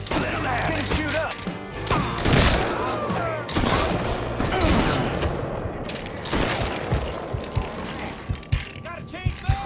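Bursts of gunfire in the video game Mafia 3, rapid volleys and single shots cracking loudly over game sound effects and shouted voices, with crashes and thuds in between.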